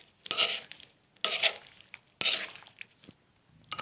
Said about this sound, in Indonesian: Lalu kita aduk-aduk merata